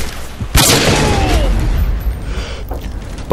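Grenade explosions in the video game Modern Warfare 2: one loud, close boom bursts in early and rumbles on, with a fainter thud or two following near the end.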